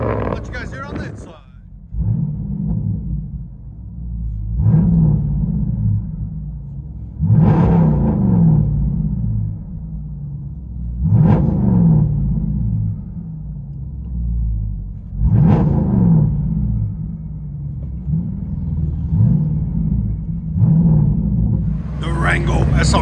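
A 2020 Dodge Durango SRT 392 with true dual straight-pipe exhaust, heard from inside the cabin: a deep droning rumble rises into repeated revving bursts about every few seconds, with some talk in the cabin.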